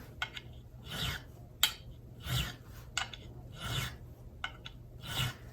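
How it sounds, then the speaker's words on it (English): Rhythmic rasping strokes of sandpaper rubbing metal frets on a Telecaster guitar neck, close and fairly quiet, repeating roughly every second with brief scratchy clicks between. "we're sanding the tool marks out off of the frets that we make"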